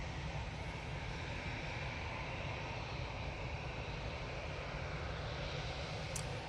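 Steady, broad engine roar of a Ryanair airliner at Manchester Airport, heard from a distance with a low rumbling wash that holds throughout and no speech.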